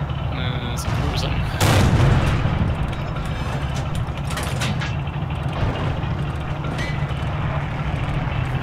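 A cruiser shells the player in the World War II game Forgotten Hope 2. A heavy boom hits near the start over a constant engine rumble, and a few fainter distant blasts follow while a voice talks over it.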